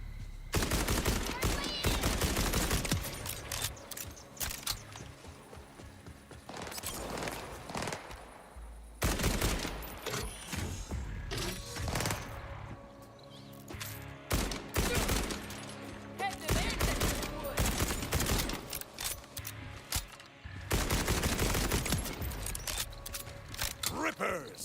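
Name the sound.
gunfire in video game Borderlands 4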